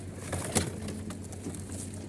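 Expensive Pakistani pigeons kept in a loft above a shop in Oman give soft, low cooing, joined by a brief wing flutter, fairly faint and without talk.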